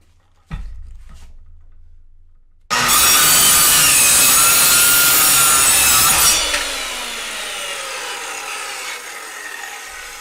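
Corded circular saw starts after a short pause and a couple of light knocks, then cuts wood with a loud, harsh high whine for several seconds before the blade spins down into a fading motor hum.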